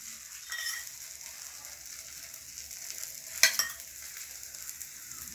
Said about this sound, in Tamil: இதுவும் இந்த முட்டை வேகிறதுக்கு கொஞ்சம் எண்ணெய் விடுங்க.